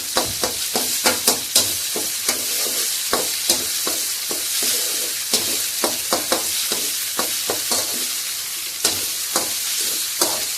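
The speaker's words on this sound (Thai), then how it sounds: "ผัดให้หอมเลยนะครับ" Red curry paste stir-fried in a pan for a spicy crocodile stir-fry, a steady sizzle cut by regular scraping strokes of the spatula, close and loud with no voices.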